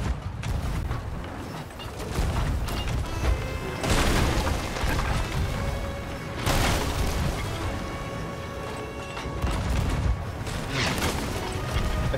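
Ship cannons fire and shots explode in the Sea of Thieves pirate game during a brigantine battle, with heavy booms arriving at intervals over a continuous loud roar of wind and water and no talking.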